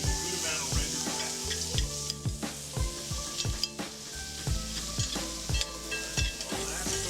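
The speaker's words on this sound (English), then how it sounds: "we're gonna cook this down until you start seeing a good amount of rendered fat" Bacon cooking down in a hot pan as its fat renders, a constant bright sizzle overlaid by many sharp, rhythmic knocks and clicks from the pan throughout, with no talking.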